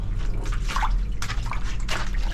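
Water drips and splashes in a bathroom that has no roof yet, with irregular close drops and trickles over a steady low background.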